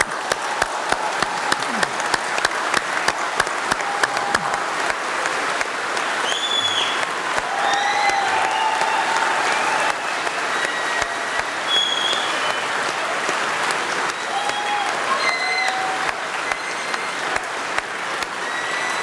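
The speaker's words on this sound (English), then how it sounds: "So please stand up, and I'd like you to join me in cheering and saying thank you to them." A graduation audience gives sustained, full applause for the School of Computing and School of Environment and Life Sciences ceremony, with a few whoops and cheers rising above the steady clapping.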